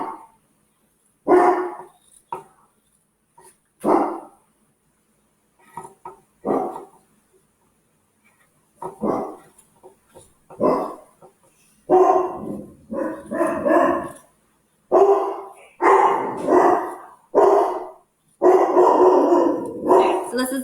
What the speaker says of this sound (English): Don't mind the peanut gallery dog.